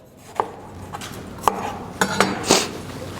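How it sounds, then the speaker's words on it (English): A knife slices red, yellow and orange bell peppers on a cutting board in a handful of sharp, irregular knocks close by, with a few light clinks between the cuts and no talking. "we're just going to cut this up in nice little slices"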